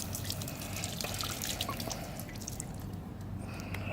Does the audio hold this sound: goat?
no